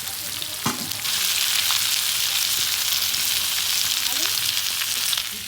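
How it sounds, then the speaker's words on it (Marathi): Pieces of food frying in a pan, giving a loud dense sizzle that runs throughout, with an occasional knock or stir early on and no talking. "आपल्या तुकड्या फ्राय करून रेडी झालेल्या आहेत"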